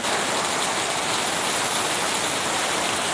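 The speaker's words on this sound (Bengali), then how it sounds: "আসলে এত বৃষ্টি, এত পরিমাণ বৃষ্টি দেখেন, বাইরে যেতে পারতেছি না।" Heavy rain pours down outdoors in a loud, dense, unbroken hiss that fills the whole stretch, with no voices.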